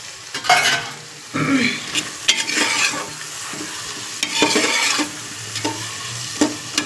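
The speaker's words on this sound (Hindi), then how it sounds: "और अब हम इसे प्याज के साथ भून लेंगे मिर्चों को।" Chillies and onion sizzle and fry in a pan while a utensil stirs and scrapes in irregular bursts, close and clear with occasional metallic clinks.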